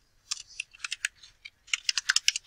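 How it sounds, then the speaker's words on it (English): Rapid, irregular keystrokes on a computer keyboard while typing a slide title in Google Slides, close and fairly crisp, coming in a quick cluster and then a denser flurry toward the end, with no voices. "I'm going to go ahead and type Explore."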